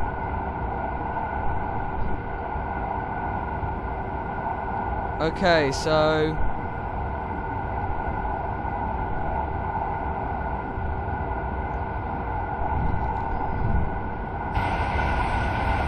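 A constant rumbling drone with a steady whine from inside a TGV high-speed train at full power, a brief squeal midway and a short spoken remark.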